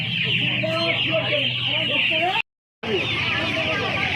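Many Australian chicks cluck and peep together at the Uluberia hen market in a dense, continuous chatter, close by, with people talking in the background and a brief silent gap.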